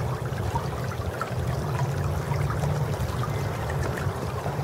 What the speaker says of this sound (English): I'm looking at this little creek here. This is gorgeous. I mean, it's just a little, listen to that tranquil water.